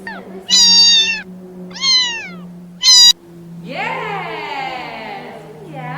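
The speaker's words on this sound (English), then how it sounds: "do you know how does the cat sound? Let's listen." A cat meows loudly several times, three sharp, close mews in quick succession followed by a longer, drawn-out wailing meow, with nothing else over it.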